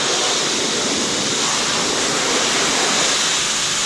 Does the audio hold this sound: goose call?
no